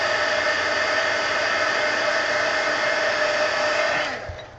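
A hair dryer runs close and loud over wet marker ink on a coloring page, a steady whooshing hum that winds down near the end, with no talking.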